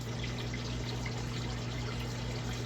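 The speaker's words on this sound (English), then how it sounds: "I'm just going to add a little bit of water and then we can wait for it to warm up to temp." Water poured into a new turtle tank, a steady close, continuous wash of trickling liquid with an even, unbroken level and a low mechanical hum beneath.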